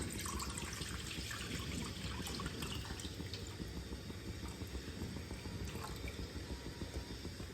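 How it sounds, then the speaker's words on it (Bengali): Milk is poured into a wok to be reduced for kheer, making a steady, fairly quiet trickling wash that runs unbroken with no voices. "দুধটা কড়াইতে আমি দিয়ে দিলাম।"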